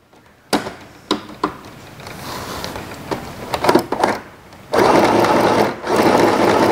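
A Mini Portable 505 sewing machine stitches in short separate bursts, then runs in a longer steady whir near the end, close and fairly loud with no talk.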